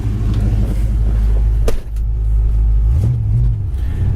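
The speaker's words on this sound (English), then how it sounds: "Beautiful sounding dual exhaust." A 1965 Ford Mustang fastback idles with a deep, throaty dual exhaust rumble, loud and close, with a brief dip and a slight rev near the end.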